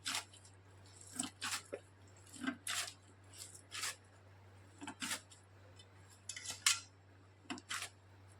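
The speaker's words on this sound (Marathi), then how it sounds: "हाताला पाणी लावून लावून लावून असं मळून घ्यायचं आहे" Soft, wet squishing and pressing sounds repeat in an irregular rhythm, close up, as wet hands knead sticky modak dough, with a steady low hum underneath.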